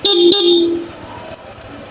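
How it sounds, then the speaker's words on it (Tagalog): A short Honda ADV160 scooter stock horn beeps twice in quick succession, loud and close, followed by faint clicks and quiet background. "sa busina natin, stock horn. Stock horn lang talaga"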